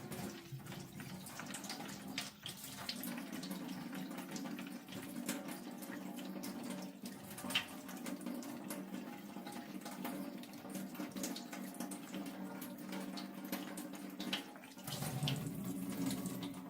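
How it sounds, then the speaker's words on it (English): Tap water runs steadily into a Coke bottle, a continuous soft hiss and gurgle of filling that carries on quietly for a long stretch. "we'll just fill that bottle to the top with tap water"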